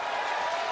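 A wrestling arena crowd cheers and applauds in a steady, dense roar that holds at a constant level for under a second, with no clear voices over it.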